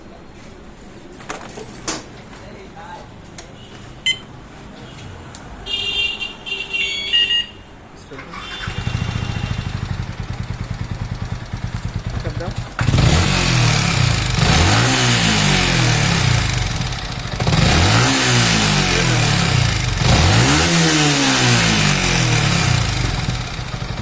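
A Yamaha MT15 motorcycle with a loose timing chain starts after brief talk, then runs loudly up close, its engine swelling in repeated rev-like surges over a steady mechanical rattle.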